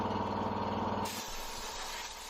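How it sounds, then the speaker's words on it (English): Compressed air blasts dust off a workshop furnace filter, a steady loud hiss that shifts to a brighter, broader rush partway through, with no talk. "So here I go blowing off the dust that the furnace filter didn't catch."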